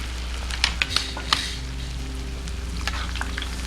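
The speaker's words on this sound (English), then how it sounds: "So we're gonna let this fry until, like, remember the trick about the deep frying?" Battered vegan chicken pieces for chili garlic kkanpunggi sizzle steadily as they deep fry in hot oil, with loud, continuous crackling, a few sharp utensil clinks and a low kitchen hum.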